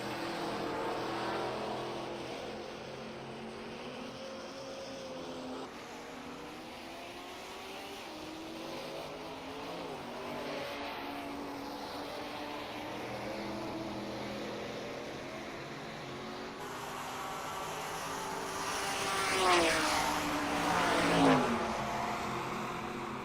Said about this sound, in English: The GT cars are, some of them are still on their outlaps, but they are making their way around slowly but surely.